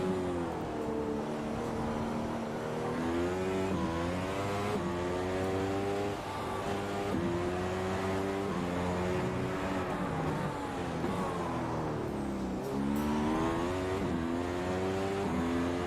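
Race car engine in the iRacing sim, a loud continuous whine rising and falling through repeated upshifts and downshifts as the car laps, with no talking.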